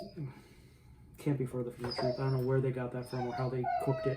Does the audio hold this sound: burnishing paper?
no